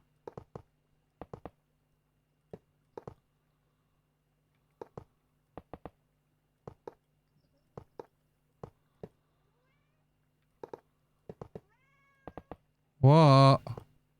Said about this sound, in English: Can you hear him being vocal now? He's meowing at me.